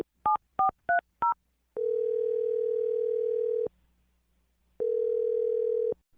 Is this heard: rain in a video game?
no